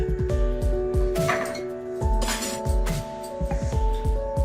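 A hot clay pot from making tandoori chai is set down into a vessel, giving a series of close, ringing clinks and knocks with a brief crackling hiss in between.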